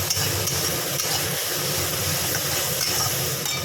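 Spices with cumin powder, turmeric and salt fry in hot oil, giving a loud, continuous, close hiss that stays even throughout with no voices.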